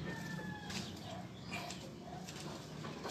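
Backyard chickens being fed a homemade mash of food scraps and water, with soft scattered clucks and coos at close range over a steady outdoor background.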